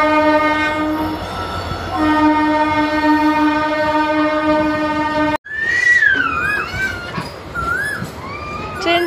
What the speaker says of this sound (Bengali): ট্রেনটা পরপর স্লো হয়ে গেল দেখো